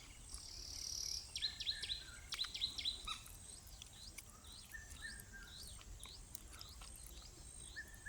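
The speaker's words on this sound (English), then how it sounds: "and sounds of other bird species" Several bird species chirp and call in repeated short notes against a steady chorus of insects in a natural outdoor setting, the bird calls bright and fairly close, denser during the first few seconds.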